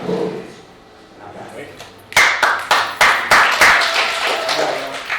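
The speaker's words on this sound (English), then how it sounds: "we clap, we snap when we relate" Audience at a community addiction forum breaks into sharp clapping and finger snapping after a quiet stretch; a burst of crisp, uneven claps starts about halfway and continues to the end.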